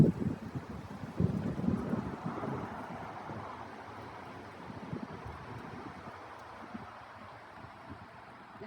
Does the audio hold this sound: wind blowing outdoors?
yes